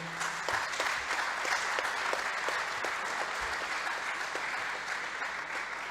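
Audience applause at a grand public debate fills the room, a continuous even wash of many hands clapping at a steady level with a few distinct claps near the start.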